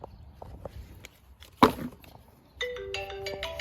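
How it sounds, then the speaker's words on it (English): Phone ringtone for an incoming call sounds in a garage during work on a 2021 Scat Pack, a bright melodic tune starting suddenly near the end after scattered clinks and a sharp knock. "And we're getting a phone call."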